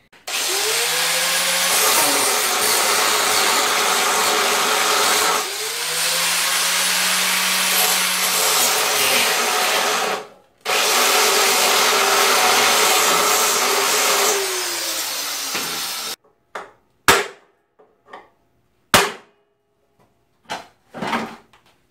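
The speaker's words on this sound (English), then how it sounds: "So I'm having to grind that off so I can get the seat off." Angle grinder cutting away an old weld on a barn-stored Honda XL125 motorcycle, three long loud bursts of whining grind separated by brief stops, then short sharp clanks and knocks close by with no talking.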